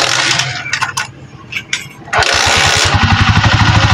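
A motorcycle engine cranks and fires up during electrical troubleshooting with a test light, starting with broken bursts of noise and then settling into a loud, steady pulsing run that sounds close by.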